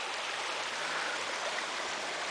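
Spring water from the Mata Comprida hills gushes in a steady, close hiss of flowing water, even and unbroken with no voices.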